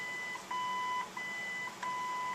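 Repeated electronic beeps from an original AM radio in a 1967 Ford Galaxie, steady tones broken by short pauses over a faint background broadcast hiss.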